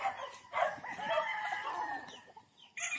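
Several gamefowl roosters at a game farm in General Santos City crow and cluck close by, their calls overlapping in a busy, continuous chorus with a short lull near the end.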